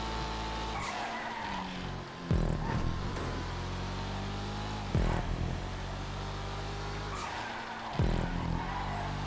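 A Ferreira car in a racing video game, its engine droning steadily and close with rising and falling revs, punctuated by three loud tire skids or squeals at regular intervals.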